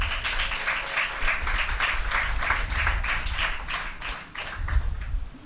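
A church congregation claps loudly through a service sermon on the temple, with dense, sustained applause that turns into a brisk rhythmic beat before easing near the end.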